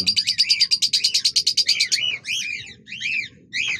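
Several cockatiels calling close by: a fast run of rhythmic chirps, then louder rising-and-falling whistled calls in bursts.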